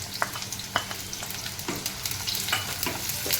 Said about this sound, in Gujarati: તેલ ગરમ થઈ ગયું. હવે આપણે આ ડુંગળી નાખી દઈશું